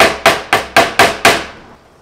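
Hammer tapping shut a homemade penny alcohol stove: six sharp, close, evenly spaced blows about a quarter second apart, each ringing out and fading, with no voices.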